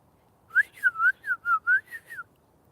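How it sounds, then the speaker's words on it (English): A loud human whistle in eight quick, rising-and-falling bursts, close and alone, with only faint background noise. "Try not to hurt your ears, my loud whistling."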